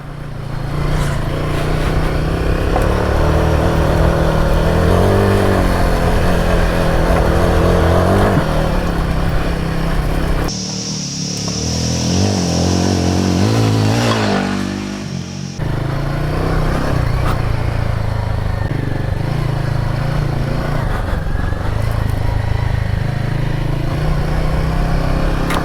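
A Royal Enfield Himalayan 452 adventure motorcycle rides off road, its single-cylinder engine droning steadily and loud, with a brief dip mid-ride where the note drops and wind rushes, then resumes a constant throttle.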